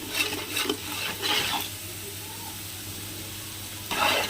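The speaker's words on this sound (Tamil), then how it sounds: "நீங்கள் இஞ்சி பூண்டு பேஸ்ட் போட்டு நல்லா கிண்டி விடுங்க" Ginger garlic paste frying with onions in a pan for homemade biryani, stirred: a steady close sizzle with a few bursts of scraping stirs, and no talking.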